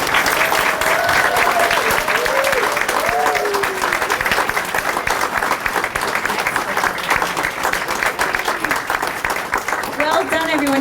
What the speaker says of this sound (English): Please, everybody join me in congratulating these students with a round of applause.